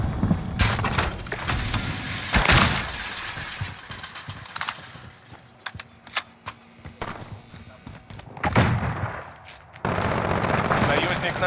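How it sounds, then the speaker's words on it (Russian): A battle in the video game Call of Duty: Modern Warfare, with scattered gunshots and heavy thuds like a grenade blast, loud and busy. Mechanical clatter and a voice are mixed in. "Бросаю гранату!"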